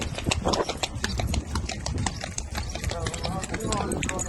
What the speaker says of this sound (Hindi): घोड़े के पाँव की आवाज़ बहुत खूबसूरत लगती है।